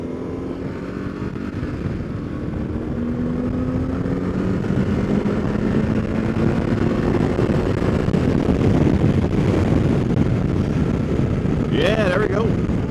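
A 1995 BMW 1100 GS motorcycle with only 6,000 miles is ridden, its engine droning steadily under heavy wind buffeting, with a voice briefly speaking near the end.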